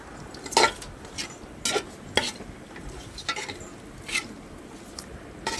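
A spoon stirs paneer kurma curry with yogurt and tomato in a pan, giving soft scraping clinks at irregular intervals over a faint sizzling background, close and quiet, with no talking.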